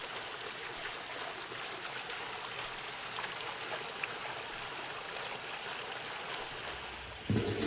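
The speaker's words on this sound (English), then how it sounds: "we need to pour a little water into the cooking container" Water pours steadily into a cooking container, a constant hissing, trickling rush that holds level throughout, ending with a brief heavier splash or knock.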